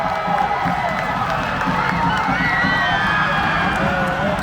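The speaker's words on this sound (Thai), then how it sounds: "คนเยอะมากแล้วก็เฮลั่นเลยเมื่อกี้" A large crowd of football fans at a cup final in a stadium, cheering and shouting loudly in a dense continuous roar with whistles and raised voices throughout.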